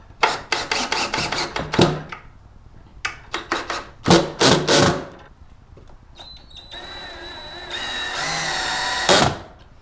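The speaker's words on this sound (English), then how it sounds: "Here I'm drilling the countersink, then following up with the screws." Power drill boring countersinks and driving screws into wood while building a wall-hung coat rack, with rapid stuttering bursts of the trigger followed by a longer steady whine as a screw drives home, close and loud.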